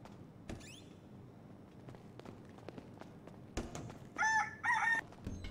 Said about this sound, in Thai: ไก่มาขันอีกอ่ะ